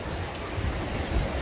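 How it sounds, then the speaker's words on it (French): Sea waves roll in on the Breton coast as the tide rises, a steady loud wash of surf mixed with wind buffeting the microphone, with no voices. "On a les vagues qui se rapprochent un peu."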